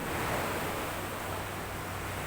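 Sea waves washing in a steady, dense roar of surf and spray, loud and close, with wind-like hiss throughout and no voices.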